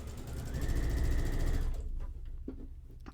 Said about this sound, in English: So I will just sew through.